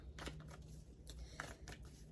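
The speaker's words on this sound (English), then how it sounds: "I'm shuffling. Y'all can see I'm shuffling." Tarot cards being shuffled by hand give soft, quiet papery riffles and rustles in several short bursts, close by, with no speech.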